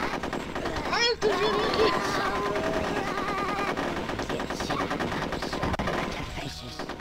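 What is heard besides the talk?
gunfire in the video game Conker's Bad Fur Day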